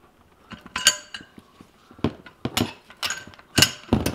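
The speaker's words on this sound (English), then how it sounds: "our torque wrench with our extension, slip it down on the coupler. And now you're gonna wanna tighten this" A torque wrench on an extension tightening the coupler of a Factory Five Racing bolt-less roll bar gives a run of close, sharp metallic ratchet clicks in irregular bursts.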